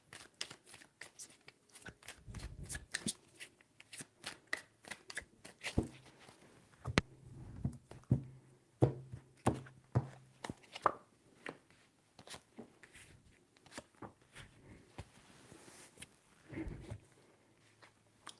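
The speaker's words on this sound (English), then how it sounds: "3 shuffles." Tarot cards are shuffled in soft, quick riffles and papery taps, close and quiet, in uneven bursts with brief gaps between them.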